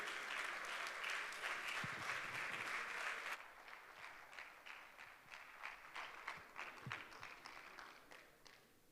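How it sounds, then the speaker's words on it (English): Audience applause at a graduation ceremony for a school of government, a loud dense clapping crowd that suddenly drops to a thinner, quieter patter of separate claps tapering off over several seconds. "A round of applause, please, for him."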